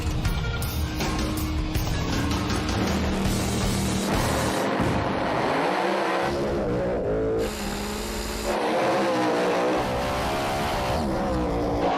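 A 1969 Camaro and a Pontiac drag race car launch side by side at a no-prep street race, engines roaring loud and ragged with revving surges and abrupt cuts, no talk.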